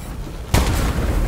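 A single sudden explosion bursts in a Fortnite match, a sharp loud boom followed by a lingering rumbling decay.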